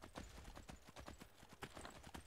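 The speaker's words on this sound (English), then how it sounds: "Riding on the horse will be faster than us running" Horse hooves in Skyrim clip-clopping at a quick, even riding gait, distinct rhythmic thuds heard alone and fairly faint.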